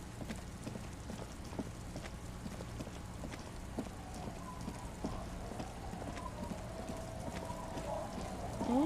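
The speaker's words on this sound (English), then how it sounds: "It's getting late, and it's raining." Rain falls steadily in the Disco Elysium video game, a soft continuous hiss with faint scattered drops and clip-clopping footsteps, fairly quiet throughout.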